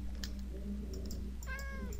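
A cat meows in Minecraft 1.14.1, with a couple of faint short mews followed by a clearer meow, over soft game background noise and light clicking.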